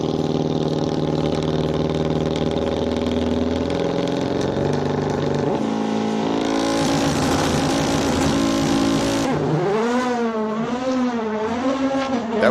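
Race car climbing the Simola Hill Climb course, engine note rising through several upshifts with loud revving, then a wailing, oscillating howl as it powers away; no voices.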